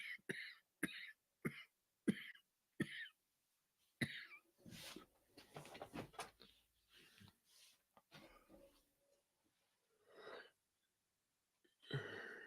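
A man coughs in a rapid series of sharp, short bursts, then breaks into wheezy, laboured coughing and throat sounds mixed with breathy laughter, close and fairly quiet.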